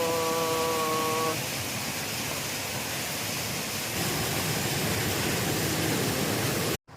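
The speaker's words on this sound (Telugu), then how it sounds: "జలపాతము." A waterfall feeding a village pond where fish are caught gives a steady, loud broadband roar of rushing water that continues unbroken, with a brief faint whistle-like tone early on and a sudden cut near the end.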